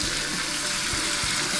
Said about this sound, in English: No separate hot and cold taps, just one tap and you can adjust temperature of this.